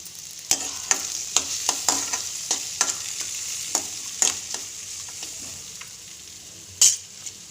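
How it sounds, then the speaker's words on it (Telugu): Carrot, potato, capsicum, green chilli and onion fry together in a pan for vermicelli upma, a constant hiss punctuated by regular sharp scrapes and taps of a spatula, one louder clack near the end. "అన్ని కూరగాయలు వేగుతున్నాయి కదా"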